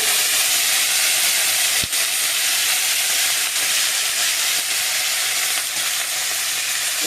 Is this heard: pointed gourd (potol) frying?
yes